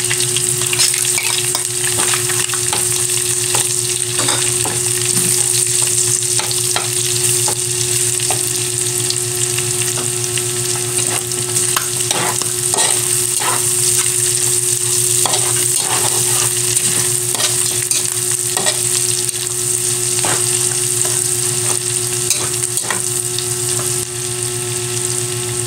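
Garlic sautéing in a pan for a chicken liver and gizzard adobo dish, a steady loud sizzle with crackling pops and occasional stirring scrapes throughout, no talking.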